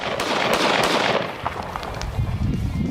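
A 5.7 pistol fired akimbo pops off a quick string of loud, sharp gunshots at close range, the shots crowding together in rapid bursts with no talk.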